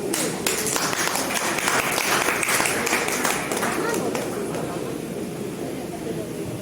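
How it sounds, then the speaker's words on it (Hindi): A crowd at a Hindi Diwas stage event claps to welcome a speaker, a dense continuous wash of applause holding steady throughout with a slight easing near the end. "जोरदार तालियों से उन्हें स्वागत"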